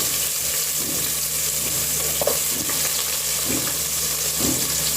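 Handful of onions frying in a couple of spoonfuls of coconut oil in a rice cooker pot, a steady close sizzle with occasional stirring scrapes and soft clinks.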